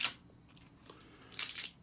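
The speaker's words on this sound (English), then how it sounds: "So I'm going to cut that open." Scissors or a blade cut open a sealed package containing beard products, giving a sharp snip at the start, a faint rustle, then a louder burst of tearing and crinkling near the end, close and without talk.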